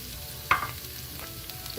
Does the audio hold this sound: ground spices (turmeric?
yes